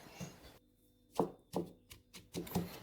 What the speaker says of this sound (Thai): โขลกต่อเลยครับ ตามด้วยกะปิหวานอีกหนึ่งช้อนโต๊ะครับ